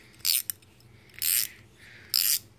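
A box-end gear wrench ratchet clicks in three short, sharp bursts of rapid metallic clicking separated by brief pauses, close and clear.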